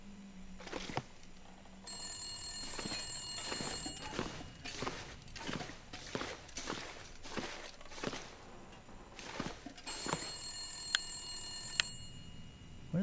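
A telephone rings in the video game The Long Dark, with two bursts of bright electronic ringing over a steady run of footsteps on a hard floor, fairly quiet overall.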